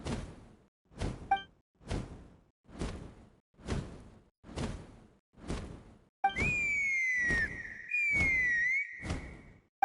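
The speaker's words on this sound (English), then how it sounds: "That sounded like a whistle." In the Natlan region of Genshin Impact, a rising and falling whistle blows twice in a row, sustained for about a second each time over a steady rhythm of repeated whooshing gliding sounds.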